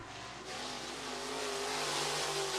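Race cars, SportMod and Modified classes, circling the track at Raceway Park, one pressing close on another's bumper down the backstretch; a steady, rising engine drone that grows louder, with no talk over it.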